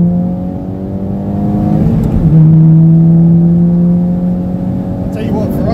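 A stage two MK2 Seat Cupra with a manual gearbox revs and accelerates hard, its engine note climbing steadily with a gear change partway through, loud and close.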